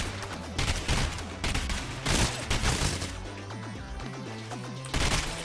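Rapid bursts of gunfire from the video game Rounds, dense cracking shots repeating across the whole stretch with a steady low game hum beneath.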